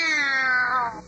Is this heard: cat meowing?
yes